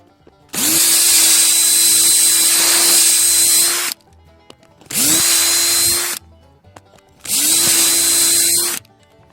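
A power drill whirs loudly in three bursts, one long then two shorter, with steady high-pitched motor whine and brief quiet gaps between, drilling a shallow tap hole in a tree trunk for maple sap.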